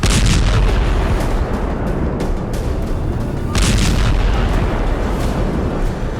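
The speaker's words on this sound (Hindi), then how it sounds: "खान यूनुस में इजरायली वॉरप्लेन ने जबरदस्त बमबारी की है" Heavy, continuous rumbling blasts and booming explosions from an Israeli airstrike bombing in Khan Younis, Gaza, loud and dense with repeated bursts and no clear pauses.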